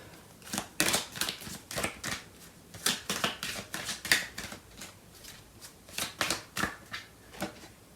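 Tarot cards shuffled by hand in quick riffling bursts, crisp papery flutters repeating in irregular groups, close and clear with no speech over them.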